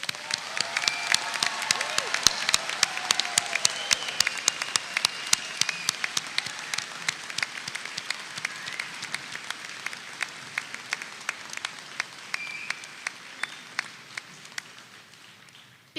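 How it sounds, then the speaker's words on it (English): Sustained audience applause for graduates at a spring evening Washburn Tech commencement ceremony, dense clapping loud at first and slowly thinning and fading over about sixteen seconds, with no talk over it. "Please join me in recognizing these impressive individuals for their accomplishments by offering a round of applause."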